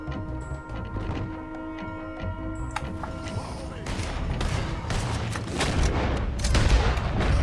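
Gunfire from a Red Dead Redemption 2 shootout, with a burst of shots that grows denser and louder toward the end. Voices talk over the gunfire.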